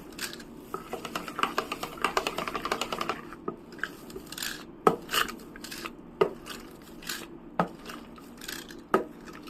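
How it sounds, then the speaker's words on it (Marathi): Shrikhand being whisked and mixed in a bowl: quick, light clicking taps of the whisk, dense at first and then more spaced out, close and fairly quiet, with no voices. "वेगवेगळ्या ठिकाणी विस्कर ठेवून आपण असं मिक्स करायचं आहे."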